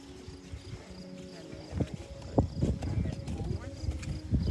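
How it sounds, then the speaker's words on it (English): A mare's canter in a riding session, heard as muffled rhythmic hoof beats that grow stronger and nearer over a steady background hum. "So this mare has a very powerful canter."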